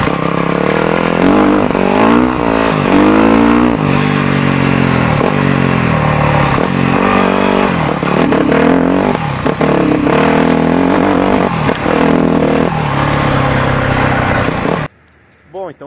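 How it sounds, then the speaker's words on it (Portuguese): A Yamaha WR dirt bike engine revs unevenly and loudly throughout, sputtering, the tone rising and dropping in uneven surges as if catching and stumbling, before cutting off near the end. "Então vocês notaram que ela está engasgando, né? Depende do jeito que eu acelero"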